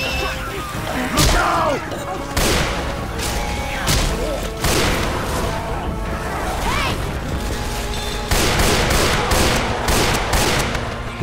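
Gunfire in Left 4 Dead 2 against a big zombie, loud repeated bursts of shots and booms in quick succession, with players shouting and talking over the shooting.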